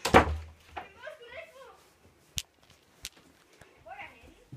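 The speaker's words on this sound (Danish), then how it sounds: "Vi lukker døren." A door is shut with a firm thud at the start, followed by a few lighter knocks and thumps while people talk quietly in Danish.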